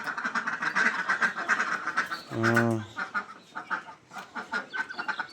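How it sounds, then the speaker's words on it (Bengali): A flock of about ten farmyard ducks, fed chopped radish beside layer hens, keeps up a busy run of nearby quacks with one long, loud call in the middle. "এই যে হাঁসগুলোকে মূলা কেটে দেওয়া হলো হাঁস আছে কয়টা"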